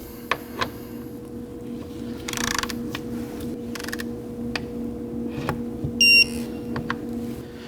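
A torque wrench tightens intake manifold bolts to 8 foot-pounds on a 2011-2016 Kia Optima, giving sparse sharp mechanical clicks and ratcheting over a steady hum, ending in a brief high beep-like click burst.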